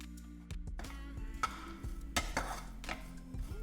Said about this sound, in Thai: คั่วจน แห้งเลยนะคะ ทั้งข่าแล้วก็กระเทียม